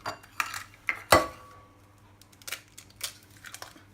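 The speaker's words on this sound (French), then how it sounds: "vous prenez 4 œufs et vous les cassez dans ce saladier" Eggs cracked one after another into a mixing bowl for a peach clafoutis, a sharp close shell crack followed by lighter taps and clinks of bowl handling, with no talk.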